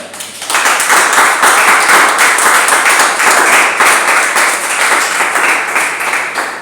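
A church congregation claps and cheers in acclaim of the Lord, a dense, steady wash of applause that swells in quickly after a quiet start and holds loud and even to the end.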